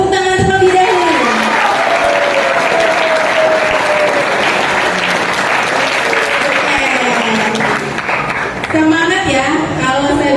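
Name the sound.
audience applause, students clapping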